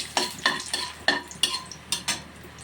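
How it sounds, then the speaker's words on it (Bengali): Cumin seeds, dried chili and bay leaf frying in hot oil, a soft steady sizzle under repeated light scrapes and knocks of a stirring spoon against the pan. "ভাজাভাজি করে নিই।"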